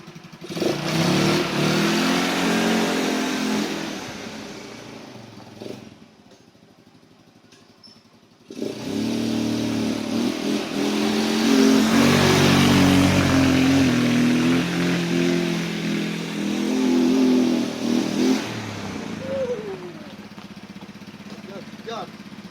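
A 150cc automatic ATV engine runs and revs while being driven, a steady droning motor with rises in pitch, dropping briefly near six seconds before resuming loud and close, with someone talking over it.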